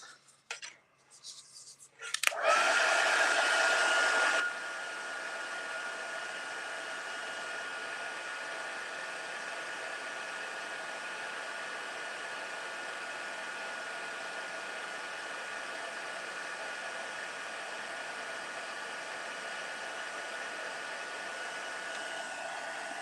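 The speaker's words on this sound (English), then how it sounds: "heat tool" A heat embossing tool blasts hot air in a craft session, starting after a few faint clicks with a loud burst that settles into a steady, moderately loud whooshing whir with a thin tonal whine, running unbroken and without speech.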